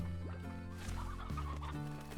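Elder Hens clucking in the Slime Rancher video game: a steady run of close, moderately loud clucks and fowl calls over a continuous tonal game background, with no talking.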